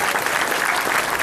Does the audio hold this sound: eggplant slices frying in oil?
no